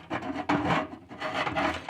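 Long hammer-drill bit used as a metal rod, pushing and scraping clothes aside inside a washing machine drum; close rubbing and rasping strokes in a few uneven bursts, no talk.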